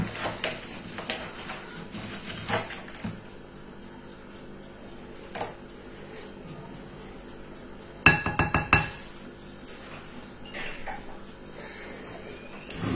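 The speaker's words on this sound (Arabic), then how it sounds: "ونخلط هاد المكونات" Ingredients being stirred in a glass bowl with breadcrumbs, herbs and cauliflower, giving sharp clinks and taps, sparse at first and then a quick cluster of knocks, with quiet background noise between.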